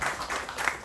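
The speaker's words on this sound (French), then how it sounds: "méritent encore des applaudissements nourris" Applause from an audience for young people on an insertion project, heard at a presentation of a multifunction mowing and pruning machine: dense, steady clapping at close range that keeps going for the whole short stretch.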